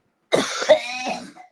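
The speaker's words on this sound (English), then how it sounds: "That's the worst cough than any of the ones that I've done before." One harsh, raspy cough bursts out after a moment of silence, close and loud, with a second rough push in the middle before it trails off.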